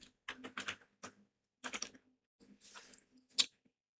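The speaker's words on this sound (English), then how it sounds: "So you type in AMD." Someone types a stock ticker into a finance website on a computer keyboard. Separate clusters of close, crisp key clicks arrive in short bursts with silent gaps between them, ending on one sharper tap, and no one speaks.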